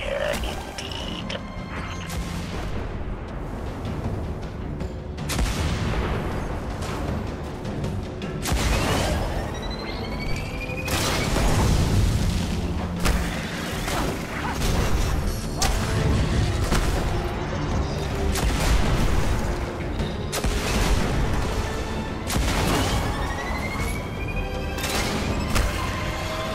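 Scorch Cannon, a rare heavy weapon in the Destiny video game, fires repeatedly in loud booming blasts with crashing impacts over continuous battle noise and game effects.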